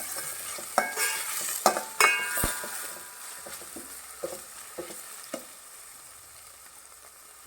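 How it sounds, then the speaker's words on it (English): Tomato and green chili sautéing in a pan for Goan prawn curry, with a steady sizzle under sharp spoon scrapes and clinks that come loud early and then thin out to sparse stirs. "Once you add tomato, you need to add green chili and saute it for a while."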